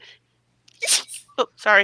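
A single sharp sneeze bursts out, followed by a short spoken apology and more talking.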